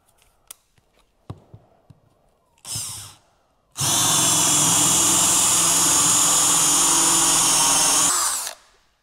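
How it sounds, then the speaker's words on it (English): A hole saw on a power drill cuts through boat fiberglass on a 2005 Supra build: a few light knocks and a short drill burst, then a loud, sustained whirring grind lasting about four seconds before spinning down, with no talking. "Now we're gonna go ahead and use the hole saw to get the rest of that out."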